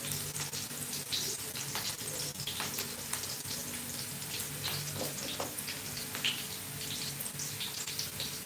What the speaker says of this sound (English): You're going to fry your onions till they're all turned brown.